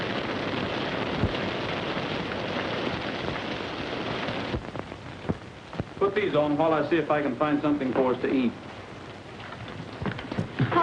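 Steady heavy rain with low thunder rumbles from a storm, continuous throughout, with someone speaking over it partway through.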